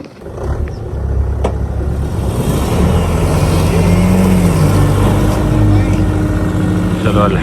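A car engine revving hard while being recovered from swampy off-road mud in the Rann of Kutch, a loud sustained roar with rising and falling pitch close by, with voices talking over it.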